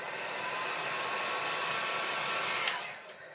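A heat tool blows steadily on a handmade card element for crafting, a broad whooshing airflow held for about three seconds before it cuts off and fades near the end.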